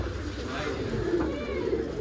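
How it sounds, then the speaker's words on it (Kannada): Pigeons coo in a bird shop, a soft low murmuring running steadily beneath nearby talk and general shop bustle. "ಅಕ್ಕಿಗಳು ಒಳ್ಳೊಳ್ಳೆ ಅಕ್ಕಿಗಳಿದಾವೆ"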